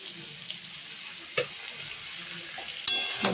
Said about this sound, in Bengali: সুন্দরভাবে নেড়ে চেড়ে আবারও কিন্তু কষিয়ে নেব